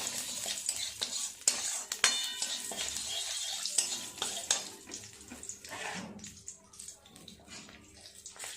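Black cumin and green chillies crackling in hot oil, a fairly faint close sizzle mixed with stirring scrapes and clinks from a spoon in the pan, uneven in loudness throughout.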